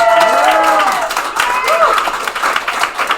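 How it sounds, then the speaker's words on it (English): An audience at a fall graduation ceremony applauds the graduates with a burst of clapping, mixed with voices and whooping cheers rising over the crowd. "you can clap for them"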